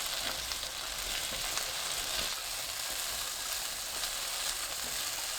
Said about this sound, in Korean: 팬에 식용유 2큰술, 마 넣고 중불로 3분 볶아주세요.